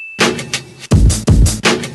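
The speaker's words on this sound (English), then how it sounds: "And then I added a new drum kit," A punchy electronic drum pattern with booming kicks and crisp hits, repeating in a steady groove, loud and close with no voices.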